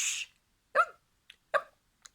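A narrator's voice imitating a butler's hiccups, several short, sharp, close gulping hics separated by silent gaps.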